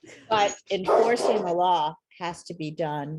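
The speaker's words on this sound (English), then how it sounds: "I'm so sorry. That's my dog." A dog barks somewhere in the home, its short barks mixed under continuous close speech from a person talking.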